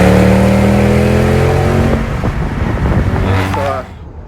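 A Mercedes E63 car engine hums steadily, then revs in a short, throaty burst before cutting off abruptly, loud and close.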